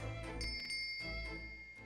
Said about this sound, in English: There's one of these next to the bed in Cosmo's cabin, too. Yes, it's a bell cord